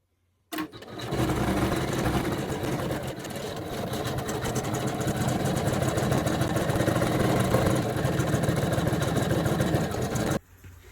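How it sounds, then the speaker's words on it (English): Janome 550E embroidery machine stitching the final step of a design, starting abruptly into a dense, steady mechanical chatter that runs continuously for about ten seconds, then cuts off. "Lower that presser foot and stitch the last step."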